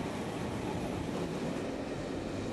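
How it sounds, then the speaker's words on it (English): A freight train passing through Southampton Central railway station, a busy area near major docks: a steady, loud, close rolling roar of wagons on rails that holds constant throughout the short clip. "On an average weekday, 20 to 30 freight trains pass through Southampton Central Railway Station"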